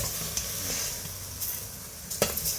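Beef stir-fried in a pot with lemongrass and kaffir lime leaves, a close, steady sizzle with light stirring scrapes and a couple of sharper utensil knocks, no voices.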